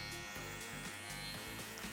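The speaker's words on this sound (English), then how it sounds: "And my trimmers, and then my shaver." An electric shaver buzzes close and steady, cutting hair during a V-shape low fade on curly hair, with no talking.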